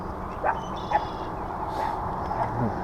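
A puppy gives a few short, faint whimpers and yips over a steady outdoor background rumble.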